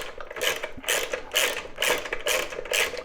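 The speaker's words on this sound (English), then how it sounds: "We're going to start ratcheting her down." A 6mm ratchet wrench tightens a seat bolt on an Indian Scout Bobber during a Syndicate two-up seat installation, giving six evenly spaced bursts of clicking strokes close to the microphone, with no talking.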